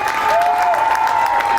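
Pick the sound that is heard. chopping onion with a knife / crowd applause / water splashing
crowd applause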